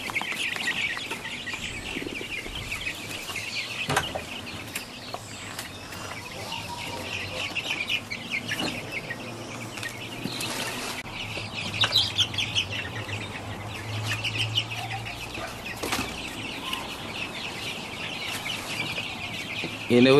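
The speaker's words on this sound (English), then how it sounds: "And more chicken is being brought to the free range hut." Free range chickens cluck and call around a poultry hut on a village-style farm, with scattered clucks and short squawks at varying distances over a low background hum, and some faint voices.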